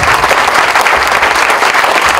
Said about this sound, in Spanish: Les agradezco un aplauso a mis compañeros del CASE